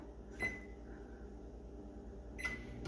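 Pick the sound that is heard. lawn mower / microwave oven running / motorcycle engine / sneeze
microwave oven running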